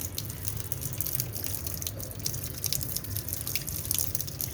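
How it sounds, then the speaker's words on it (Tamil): Water drips and trickles onto garden plants from a switched-on watering setup, a faint, steady patter of small droplets with no talking. "இது ஆன் பண்ணால் போதும், செடிக்கு தண்ணி போகும்."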